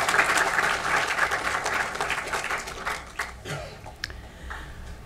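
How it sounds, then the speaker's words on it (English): A seated audience at a student scholarship award ceremony claps for a medal winner, a dense burst of applause that thins out and fades to a few scattered claps by the end. "we will also give him a round of applause"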